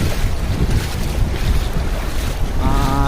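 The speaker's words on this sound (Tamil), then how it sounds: "அப்படியே தண்ணியில் நடந்து போயிட்டுருக்கோம்." Loud, steady wash of heavy rain and sloshing water while wading along a flooded main road in Dubai, with gusty wind noise on the microphone throughout and no talking.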